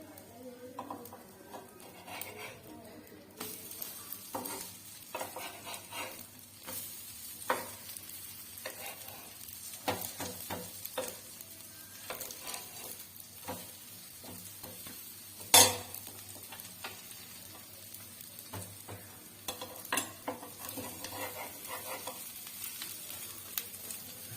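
Food fries in a little oil in a pan with a quiet, steady sizzle, broken by scattered stirring scrapes, clinks of cookware and one sharp knock midway, with some talk in the background.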